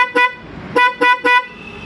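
Four short, loud beeps from a newly installed car horn in an uneven rhythm: one toot, a pause, then three quick honks in a row, each bright and harmonic-rich, with faint engine noise between them.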